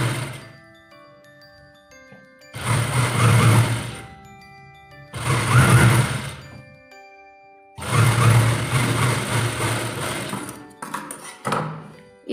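A sewing machine stitches a chudidar salwar in three bursts of steady whirring, each a couple of seconds long with quiet gaps between, ending in a short final run.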